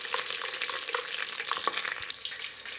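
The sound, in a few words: dried chilies, green chilies, curry leaves, asafoetida frying in oil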